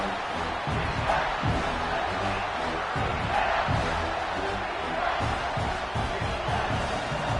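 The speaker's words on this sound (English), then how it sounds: "This crowd is trying to inspire this defense to make a big red zone stop." Roaring stadium crowd in a college football video game as the defense lines up for a red zone stop, a loud continuous wall of crowd noise with rhythmic thumping and surges throughout.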